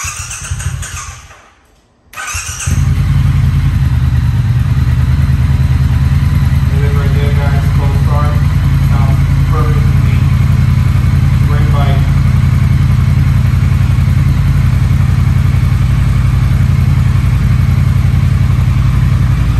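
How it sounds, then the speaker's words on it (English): Triumph Truxton R motorcycle on its stock exhaust, cold-started in a garage and then idling with a loud, steady, low rumble close by, with a voice briefly heard over it. "what a cold start sounds like for you boys"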